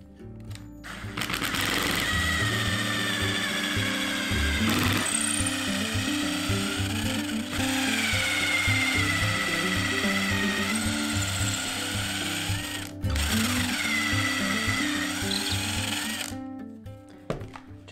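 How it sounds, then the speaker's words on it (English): A power drill with a small pilot bit whirs steadily at close range, drilling a hole, its motor pitch wavering as it bites, with brief pauses and a final stop. "I'm just gonna put my little pre-driller in there and go right into the center of the top"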